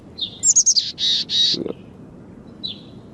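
Birds chirping in the VU alpha world video game: a quick run of several bright, high tweets early on, then a single faint chirp near the end, over a quiet low background with a brief low thump in between.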